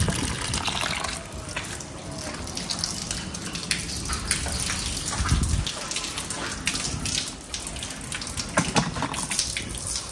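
Water pours and splashes over potted adenium plants set under a tank on a roof terrace, a continuous close gushing with small shifts in flow.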